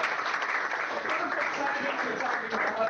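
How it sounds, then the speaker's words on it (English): A lecture-hall audience in a macroeconomics class breaks into steady, dense applause, a continuous wash of clapping that stays even and fairly loud for the whole three seconds with no talk over it. "let's give a round of applause"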